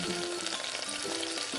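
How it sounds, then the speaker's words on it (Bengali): Whole cumin seeds fry in hot oil, giving a brief soft sizzle with faint crackles, quiet and close. "এবার দিয়ে দেব তেলের মধ্যে গোটা জিরেগুলো ভাজা ভাজা হয়ে গেলে"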